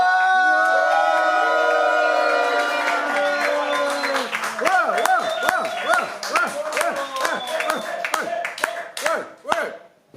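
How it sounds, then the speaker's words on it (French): An audience at a slam poetry evening at La Zonmé in Nice gives sustained, drawn-out cheering voices, then breaks into scattered clapping mixed with whoops and shouts that rise and fall. "j'attends une grande acclamation"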